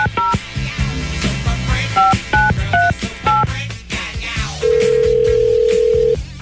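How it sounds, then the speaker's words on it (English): A telephone being dialed: a quick run of loud, clear keypad tones, each brief and evenly spaced, followed by a long steady tone, all close and with no talking. "let's dial her up"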